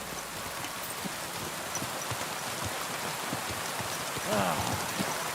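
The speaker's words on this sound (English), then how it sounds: "they even mount horses fairly realistically in this game" Horse hooves clip-clopping under steady rain in the medieval video game Kingdom Come Deliverance 2, with a horse being mounted, the hoofbeats soft and irregular beneath the constant patter of rainfall.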